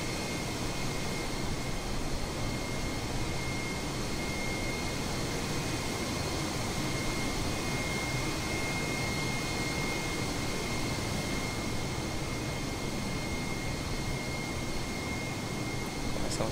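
An airplane engine in a flight simulator during a flight from Uberlândia to Campo Grande, giving a steady, even drone with broadband roar and a faint high whine that holds throughout without change.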